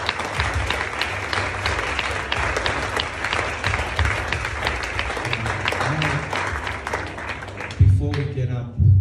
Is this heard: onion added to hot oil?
no